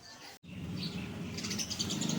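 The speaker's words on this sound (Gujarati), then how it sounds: "એક ચકલી આવી ગઈ માળો બનાવવા." A sparrow visiting to build a nest near a home gives bright, rapid chirps that grow busier toward the end, heard fairly close over a low background hum after a brief silent gap.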